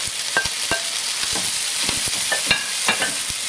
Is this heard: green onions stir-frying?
yes